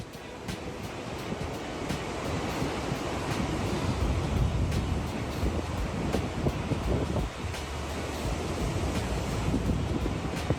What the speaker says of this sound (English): It's hard to even call this a wave, more like an ocean's assault on the land.